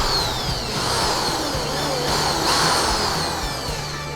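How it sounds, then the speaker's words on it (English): A drill bores holes in the wooden body of a homemade speargun, whining steadily at close range with a continuous high-pitched tone and slight surges in load. "Next, drill holes in this place."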